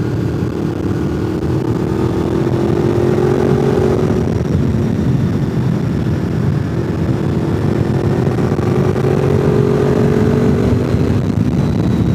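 Motorcycle on Road Sport 2 tyres heard while riding, a steady loud engine drone with wind rush that rises and falls slightly in pitch throughout, no talking.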